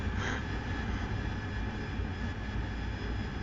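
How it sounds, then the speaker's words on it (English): Steady, heavy jet-engine roar from an AV-8B Harrier in a combat video game, a dense, unbroken wash of thrust noise that stays loud and even throughout. "the Harrier does have a big engine in it, and it can accelerate and pull hard"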